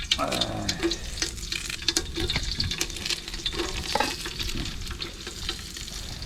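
Curry leaves hit hot oil with mustard seeds for a tomato rice base, giving a close, steady sizzle and crackle with bursts of popping, heard alone without talk.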